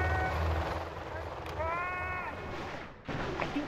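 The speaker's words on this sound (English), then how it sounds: "Let's go where the chopper is." A Helix helicopter in the real-time strategy game C&C Generals Zero Hour makes a steady low rotor rumble that holds throughout, with in-game voice chatter and unit sounds over it.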